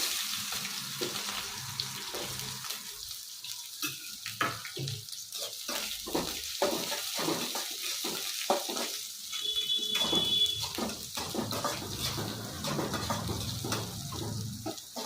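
Curry leaves and onion dropped into hot oil give a steady, bright sizzle that crackles on and off, fairly close and faint, with no voices.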